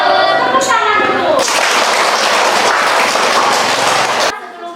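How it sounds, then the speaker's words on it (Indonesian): Schoolchildren in a classroom break into lively applause for about three seconds of dense, close clapping, which stops sharply; a voice speaks briefly before it begins. "Tepuk tangan dulu."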